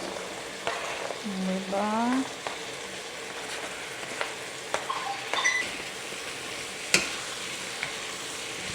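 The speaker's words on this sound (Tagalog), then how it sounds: "Ilagay ko na ang sitaw." String beans stir-frying in a pan, with a steady soft sizzle and occasional clinks of a utensil against the pan. A brief chirpy vocal sound rises over it, and a single short spoken word is heard.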